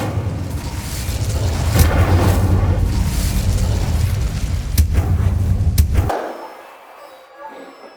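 Rushing, crackling blast of an Incendio fire spell cast in the Hogwarts Legacy video game, with booming thuds through sustained roaring energy that cuts off abruptly, leaving quiet ambience.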